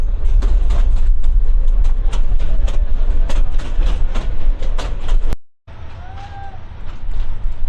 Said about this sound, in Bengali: আমাদের ট্রেনটা চলে যাচ্ছে এখন গাইবান্ধা রেল স্টেশন থেকে